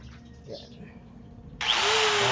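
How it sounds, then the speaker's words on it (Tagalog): A handheld angle grinder starts up abruptly after quiet background murmur, then runs loud and steady with a rising whine, working on a DIY concrete boundary marker. "Paghawak ng Grinder."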